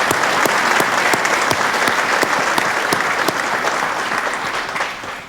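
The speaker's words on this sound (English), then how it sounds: "Let's have a round of applause." An audience at a community awards evening breaks into sustained applause, loud and close at first, then tapering gradually over several seconds with no one speaking.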